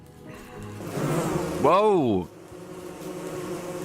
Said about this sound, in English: Bee army, a barmy.